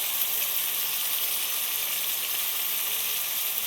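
Salted onions sauté in a pan for a traditional Indian lentil-ball dish, giving a steady, dense sizzle that holds evenly throughout with no talking.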